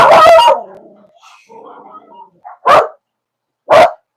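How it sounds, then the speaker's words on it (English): A dog barks in a home kitchen during a women's Bible study gathering, with a speech-like sound first, then two loud, sharp barks spaced about a second apart close by. "You better not bark again."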